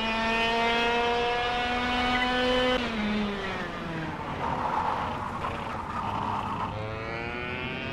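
A go-kart engine in the racing game KartKraft drones steadily throughout, its pitch holding high, then dropping as it slows, and climbing again as it accelerates, with no talk over it.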